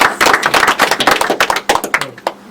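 An audience claps together at an Indonesian political youth organization's gathering, a dense, close burst of handclaps that thins out toward the end.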